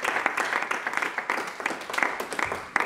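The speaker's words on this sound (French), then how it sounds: "Acclamons la parole du Seigneur." A church congregation applauding during a French-language sermon, a short, dense burst of many hands clapping in an echoing hall, steady and fairly loud throughout.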